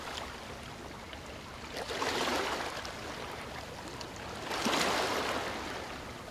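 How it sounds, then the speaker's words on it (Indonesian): Sea waves roll in at a beach, a steady wash of surf swelling into two broad, louder surges as breakers come in and recede, with no voices. "duduk di pantai memandang laut dengan ombak yang datang"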